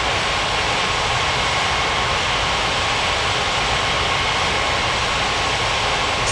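An Atlas Air jet airliner taking off from runway 12 right: a loud, steady, broadband engine roar with a constant hiss, heard up close and unbroken, with no voices.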